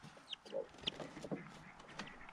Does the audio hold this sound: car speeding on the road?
no